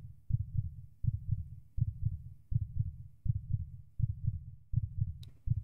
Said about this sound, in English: Why is my heart beating?